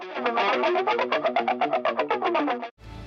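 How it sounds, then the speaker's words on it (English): Metal song intro played through a chorus and phaser effect: a dense, distorted guitar pattern pulsing in a steady rhythm for nearly three seconds, then cutting off abruptly into a short burst of different sound. "you have this, like, chorusy, phasey effect in the intro"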